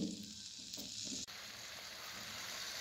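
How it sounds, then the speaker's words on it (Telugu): Jackfruit pieces sizzle in about half a cup of oil in a pan over a medium flame, a close, steady frying hiss with a brief stir and a short break near the start, then continuing evenly. "ఒక మూకుడు పెట్టుకుని ఒక అరకప్పు ఆయిల్ వేసుకుని ఈ పనస ముక్కలు వేసేసుకుని మగ్గించుకోవాలండి"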